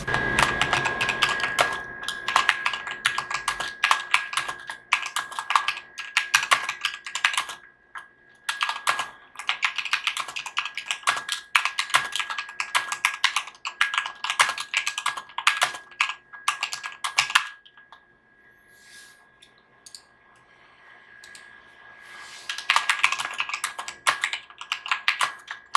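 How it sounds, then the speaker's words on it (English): Loud, clicky typing on an EVGA Z15 RGB mechanical gaming keyboard in fast bursts, separated by a few quiet pauses and a stretch of sparse single key presses. "Let's go ahead and see the sound test of this keyboard and how it is."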